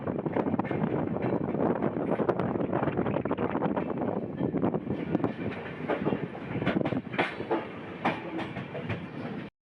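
The Shatabdi Express, New Jalpaiguri to Howrah, running through New Farakka station, heard from aboard as a loud, continuous rumble and rattle of wheels on track with buffeting wind noise, and a few sharp clanks near the end.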